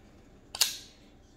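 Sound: Kizer Roach folding knife action snapping

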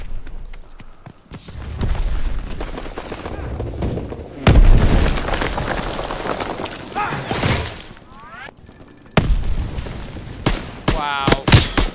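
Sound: bomb explosion on ammo supply in Call of Duty WW2 video game

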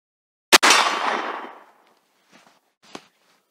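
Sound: Avkar pump-action shotgun single shot hitting steel target

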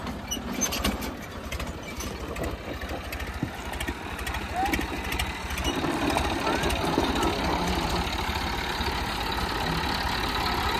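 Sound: Hero HF Deluxe motorcycle engine running

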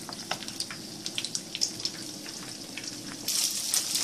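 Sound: eggs frying in a pan for fried noodles

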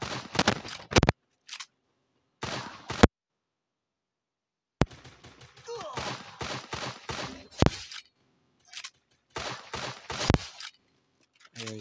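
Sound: gunfire in video game Free Fire

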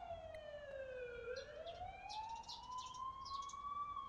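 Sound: ambulance siren in The Coma: Cutting Class video game

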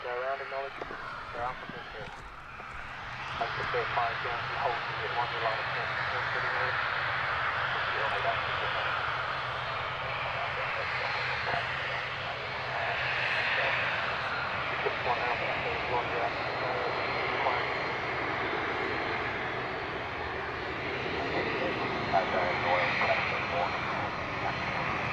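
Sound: Emirates Airbus A380 jet engines at Gatwick

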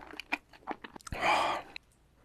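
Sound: chewing raw oysters, eating sounds

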